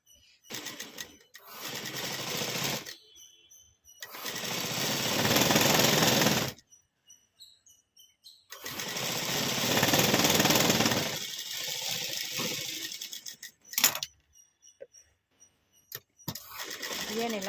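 A sewing machine stitches a sleeve in several bursts of rapid, close, loud mechanical whirring, separated by quiet pauses and a few short clicks.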